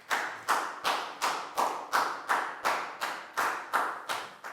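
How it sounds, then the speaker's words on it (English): A classroom of pupils claps for a student in steady unison, about ten crisp, evenly spaced group claps in a row with no talk. "High five, big round of applause for Down,"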